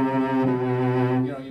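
Cello sustaining a single rich, deep note with slow, wide vibrato, close and fairly loud, with no talk over it.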